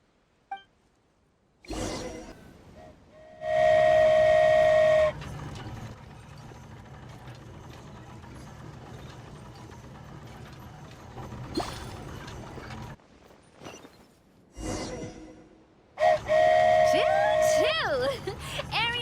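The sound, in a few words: flying train whistle and engine, Aerial Express, Genshin Impact video game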